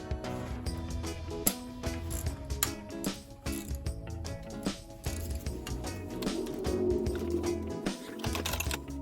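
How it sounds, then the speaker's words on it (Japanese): A swivel-head ratchet removes the stock brake rotor bolts on a Yamaha XTZ125 motorcycle, with bursts of quick ratchet clicks and light metallic clatter up close, coming in irregular runs. "ノーマルのブレーキローターを外します。 スイベルラチェットは便利だけど、首振り機構が邪魔して、"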